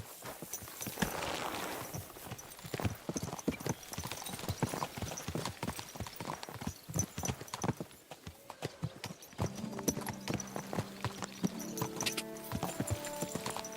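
Horses' hooves clip-clop as a company of riders sets out in the video game Kingdom Come Deliverance 2, several horses walking in overlapping rhythm, with a neigh and musical tones entering toward the end.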